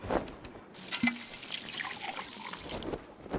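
Quiet trickling water at a clean water source in Wasteland 2, a soft continuous babble with faint splashes, low and steady throughout.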